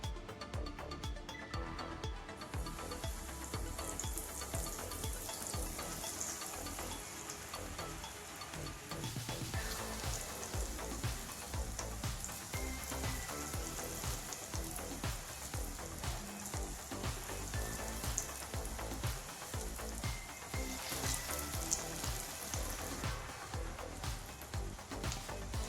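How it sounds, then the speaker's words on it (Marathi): Eggplant slices frying in oil over a low to medium flame, a steady dense sizzle with bright crackling that runs continuously and evenly throughout, with no voices. "मी तेलामध्ये वांग्याचे काप हे फ्राय करायला ठेवले आहेत"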